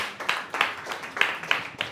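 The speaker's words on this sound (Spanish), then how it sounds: "Un aplauso para él" A few hands clap at a free sales training course, roughly six sharp, spaced claps, fairly faint and a little uneven, with no voices over them.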